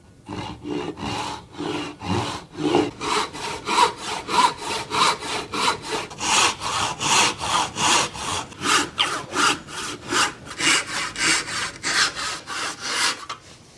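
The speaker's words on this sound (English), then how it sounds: "I'm going to now saw the tenon, so I'm starting on the top" A hand saw cuts a wooden tenon for a three-legged stool in steady, evenly paced back-and-forth strokes, each pass a crisp rasp, close and clear with no talking.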